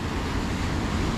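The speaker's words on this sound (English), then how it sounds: "These waves seem to be bigger than they were." Ocean waves break on the rocky shore at Acadia in Maine, a broad, steady roar of surf mixed with wind buffeting the microphone, continuous and fairly loud in a brief stretch.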